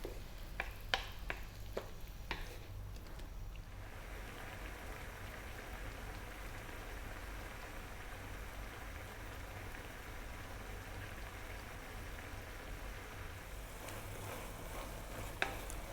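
Ground pork with coconut cooks in a pan for gising-gising, a Filipino dish, with a faint, steady sizzle and a few light clicks and stirring scrapes near the start.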